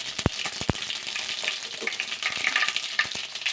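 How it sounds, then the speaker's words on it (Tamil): Mustard seeds and fenugreek frying in hot oil for fish curry, a close crackling sizzle punctuated by sharp popping ticks. "எண்ணெய் விட்டு கடுகு போட்டுக்கலாம். கொஞ்சம் போல் வெந்தயம் சேர்த்துக்கலாம்."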